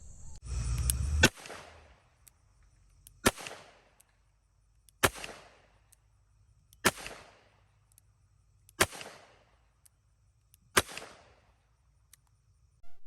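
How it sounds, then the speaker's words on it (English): A revolver fired in double action gives six sharp, loud shots spaced about two seconds apart, each with a short decaying echo, with quiet between them. "We can fire both in double action, such as this,"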